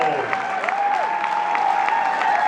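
A concert audience gives a round of applause for a musician, a steady bed of clapping with a lingering tone and a voice over it.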